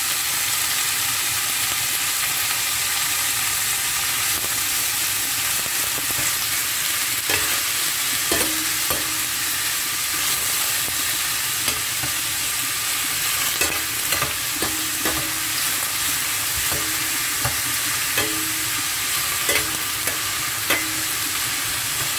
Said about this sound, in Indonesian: Goreng bentar sampai harum baunya ya.